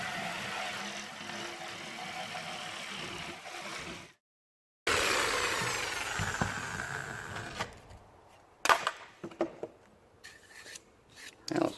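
Wood being cut for a rustic angel craft, a steady close rasping saw drone that stops briefly, resumes, then breaks into irregular scraping and knocks.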